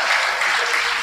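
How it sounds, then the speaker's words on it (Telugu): Congregation applauding at a parish youth Sunday church service, a steady wash of many hands clapping together at close range, filling the whole short moment without pause. "ఈ విషయాన్ని మీకు తెలియచే మనం అందరం ఒకసారి చప్పట్లు కొడదాం"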